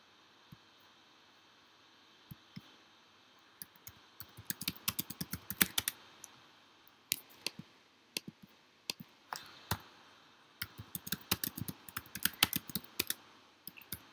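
Typing on a computer keyboard, close, crisp keystrokes arriving in quick bursts and runs with brief pauses between them over a faint background hiss.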